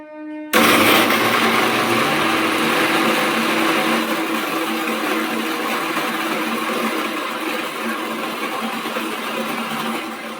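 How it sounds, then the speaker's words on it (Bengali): A mixer grinder blends tomato, onion, ginger and green chili into a paste without water, starting abruptly and then whirring loudly and steadily throughout. "এটা পেস্ট করে নিচ্ছি মিক্সিতে"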